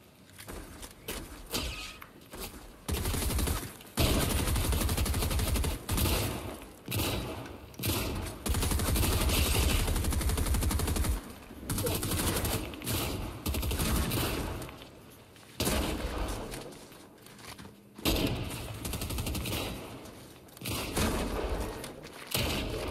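Rapid bursts of gunfire in the video game Fortnite, loud and close, with dense strings of shots broken by short pauses across the whole stretch.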